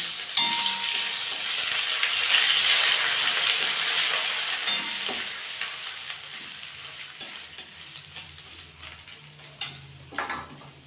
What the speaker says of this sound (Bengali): এখন আদা বাটা দিয়ে দিচ্ছি